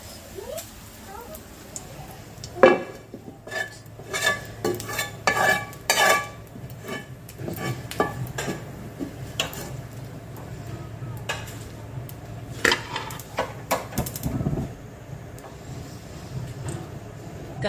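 Potatoes with turmeric and salt are stir-fried in a pan, with repeated scraping and clattering of a spatula against the metal over a low frying sizzle, close and busy in irregular bursts.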